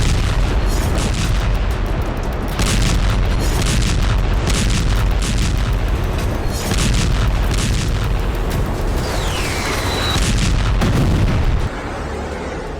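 War footage from northern Israel to the Red Sea carries a dense run of loud booms and artillery-like blasts, repeated explosions rumbling over continuous noise, then a quieter tail.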